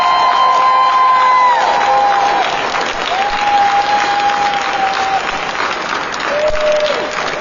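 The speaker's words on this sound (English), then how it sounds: "big round of applause for yourselves for being here today" Applause with cheering from an outdoor crowd at a recovery rally, steady and fairly loud throughout, with tonal whistle-like sounds drifting over it.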